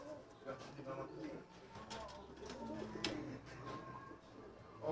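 A racing pigeon coos softly in low, repeated murmurs beneath ongoing conversation, with faint rustling and a distant room hum.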